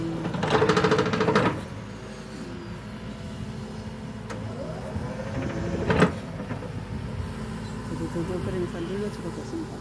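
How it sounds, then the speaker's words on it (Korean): A machine compacting ground planted with lawn grass on an outdoor construction site runs with a steady mechanical rumble and rattle, louder at the start, with a sharp knock partway through and faint background noise. "잔디를 심은 땅을 다지는 그런 공사를 하시는 것 같네요."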